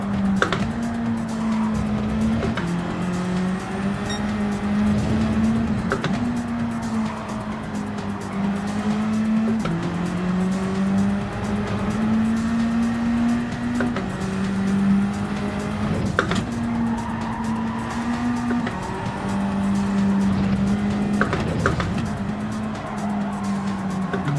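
A Group 4 race car in a racing game, its engine droning steadily and shifting pitch through gears while tires squeal and skid repeatedly through corners, loud and continuous with no talk.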